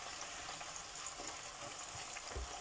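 Homemade potato chips frying in hot oil, giving a steady, close hiss and crackle with a few brief bumps and stirs from a ladle or skimmer.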